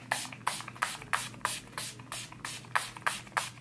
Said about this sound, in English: I'm just gonna go ahead and spray myself